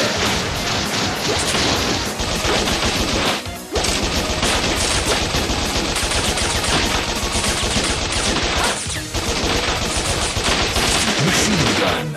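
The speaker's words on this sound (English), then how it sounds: "Rocket launcher. Charge!" Rocket launcher fire in the video game Bot Vice, a loud, dense, nearly continuous barrage of blasts and explosions with two brief dips, filling the whole stretch without voices.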